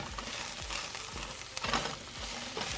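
Couscous toasts in a pan with a soft, steady sizzle, and a spoon stirs and scrapes it at a regular rhythm, close but quiet, with no voices.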